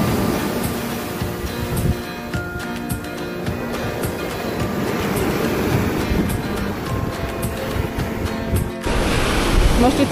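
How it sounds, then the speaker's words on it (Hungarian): Large ocean waves break on a shore in a loud, continuous rush of surf and spray, with wind buffeting the microphone and a brief lull near the end. "Most itt ilyen elképesztő méretű hullámok jönnek"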